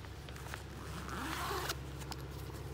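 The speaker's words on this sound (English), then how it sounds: "So I would recommend putting the zipper up" A trouser-leg zipper that runs up to the knee is pulled closed in one smooth, continuous zip lasting a couple of seconds, close and clear with no talking.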